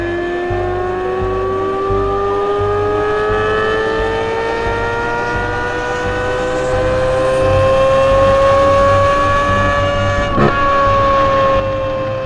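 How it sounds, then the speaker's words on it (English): A flat-plane crank performance car engine revs hard and steadily, its rising harmonic tones climbing over about twelve seconds, loud and close with no talking. "The flat plane crank is a symphony. And hearing the mechanicals work, it's music after so many years."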